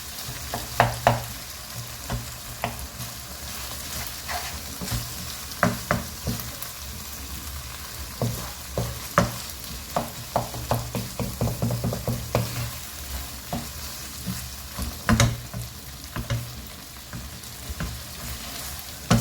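Rice being stirred into a chicken mixture in a frying pan, with a steady sizzle throughout and repeated scraping and tapping of a spoon against the pan. No one speaks.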